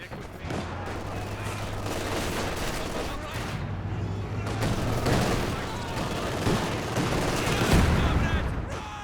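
Heavy mortar shells and gunfire erupt in a Company of Heroes 2 battle: repeated booms and crackling bursts roll on irregularly, swelling louder toward the end.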